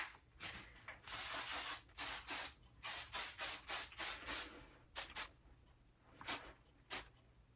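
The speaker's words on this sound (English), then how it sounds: "we'll hairspray everything in place" A can of Kenra Ultra Freeze hairspray hisses in a long burst followed by many short, rhythmic spritzes over a pixie haircut, close and fairly loud, with brief pauses between them.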